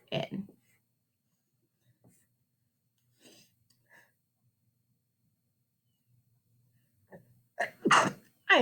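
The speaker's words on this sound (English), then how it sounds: "I did not mean to sneeze" A person sneezes, a sharp close burst preceded by brief breathy build-up, standing out from a quiet room with scattered faint sounds and a short spoken word earlier.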